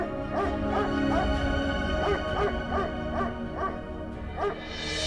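Persistent dog barking, a steady run of roughly nine yappy barks at an even rhythm over five seconds, moderately close against a low background drone, with no speech.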